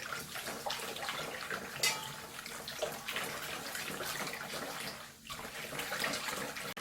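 Water sloshing and splashing steadily as a cup of coarse salt is stirred into two liters of water to make brine for salting young radish, close and continuous with no talk.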